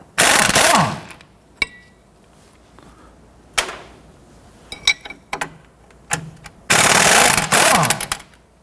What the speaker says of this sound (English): Using a 22mm socket, want to go ahead and loosen and remove our strut nuts here.